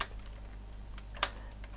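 Sparse computer keyboard keystrokes, a few isolated clicks with one sharper tap, sounding quiet and close in a calm indoor room.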